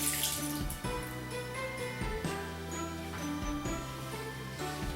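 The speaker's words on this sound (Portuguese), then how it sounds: "Agora, como se vê, tem que ir lavar a mão." Hands are washed under a running kitchen tap while making Portuguese pumpkin filhoses, with a continuous close splash of flowing water and light clinks and drips throughout.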